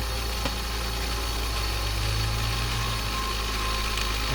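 A 1980 E6 motor on a Blademaster skate sharpener runs steadily, a constant loud electric hum and whir with a strong low drone that holds evenly throughout without pauses or voices.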